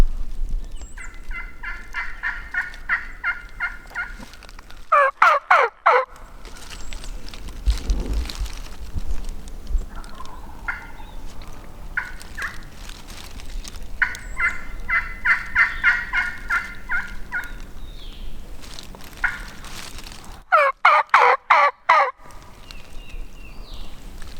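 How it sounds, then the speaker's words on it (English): A wild turkey on a far ridge gobbles in two loud, rapid rattling bursts, with softer hen-like yelping calls repeated in between over an outdoor background. "he's gobbling like he does have hens"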